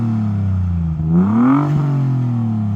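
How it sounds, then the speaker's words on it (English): A Vauxhall car's engine idles with a deep, steady hum, then is revved once, climbing in pitch and falling back to idle, loud and close. "I think you should rev it. Give it a little rev, Morgan, go on."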